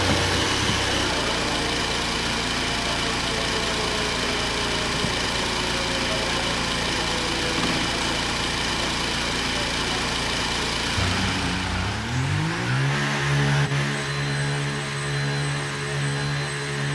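An F1 car idles in the F1 25 racing game with a steady, buzzy engine drone that rises in pitch into a rev partway through and holds higher, sounding close and fairly loud.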